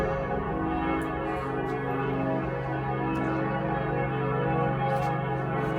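Church bells in Frankfurt ring as a solidarity bell at 18:30 during the COVID-19 lockdown, a steady, layered wash of sustained ringing that carries on throughout with no voices.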